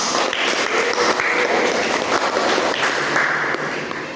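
Classroom applause for a presenting group in a teaching practice session: a dense, steady burst of many hands clapping together for about four seconds, close and fairly loud, fading slightly at the end.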